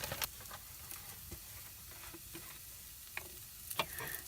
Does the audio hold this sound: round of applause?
no